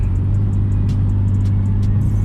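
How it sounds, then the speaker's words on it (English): A car engine rumbles steadily and loudly up close as the driver eases onto the throttle to speed up a little during a street run with an M3, low drone constant throughout. "I'm not about a full throttle, I'm just trying to speed it up a little bit."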